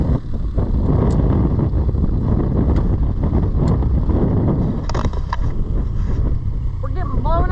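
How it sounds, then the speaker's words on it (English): Wind gusts across open water around a Highfield CL 340 dinghy, a steady broadband rush with hull and water noise throughout, and brief voices near the end. "It's breezy."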